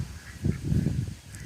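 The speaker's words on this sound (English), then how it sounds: "These geese are always interrupting me." Geese honking in a farmyard, a short cluster of loud nasal honks overlapping one another over about a second, close by with no talk.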